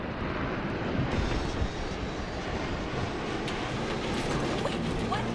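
An airplane engine in the Saints Row 3 video game gives a steady, continuous broadband roar at moderate level, unbroken across the whole stretch with no talk.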